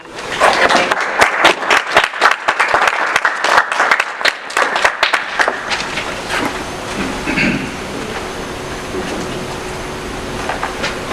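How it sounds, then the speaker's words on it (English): Audience applause at a panel event, dense clapping for about five seconds, then tapering into room murmur and scattered claps. "So let's give him some applause."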